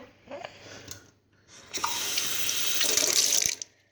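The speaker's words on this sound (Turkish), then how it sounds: "ben benim bardağım birazcık büyük olduğunda ben 3 su bardağı su döküyorum" Tap water gushing into a pot for Turkish semolina dessert: brief faint trickles and clinks at first, then a loud, close, steady stream for about two seconds that stops abruptly, with no voices.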